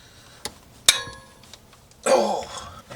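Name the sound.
small ratchet on Jeep JK axle U-joint bolt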